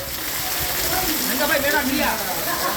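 Heavy, steady downpour in Wankaner, a dense continuous hiss of rain close by with excited voices calling out over it.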